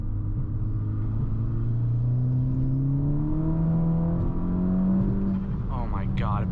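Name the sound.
front-wheel-drive car accelerating hard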